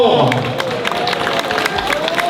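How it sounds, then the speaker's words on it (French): An outdoor crowd applauds and cheers at a French street event, the clapping dense and steady throughout, with voices mixed into the noise. "on les applaudit encore plus fort"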